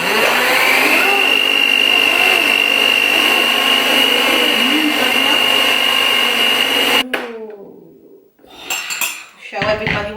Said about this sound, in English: Let's put it back under the machine and mix it all together.